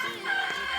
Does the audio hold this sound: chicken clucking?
yes